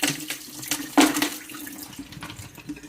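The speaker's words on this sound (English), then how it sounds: "we can kind of get some of this water out of this ice bath here" Water poured out of an ice bath, splashing and trickling in uneven bursts with a stronger gush near the middle, close and moderately loud, with no talking.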